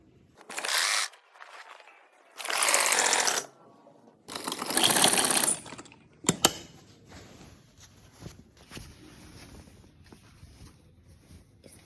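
A sewing machine stitching a kurti seam runs in three short bursts of about a second each, separated by pauses, followed by quieter handling and fabric rustling near the end.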